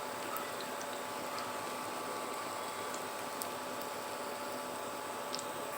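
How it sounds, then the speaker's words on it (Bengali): Malabar spinach pakoras frying in a pan full of oil, a faint continuous bubbling sizzle with an occasional tiny pop, steady and without any voices. "একে একে আমি কিন্তু পুরো ফ্রাই প্যানটা ভরিয়ে দিয়ে দিয়েছি পাকোড়াগুলো"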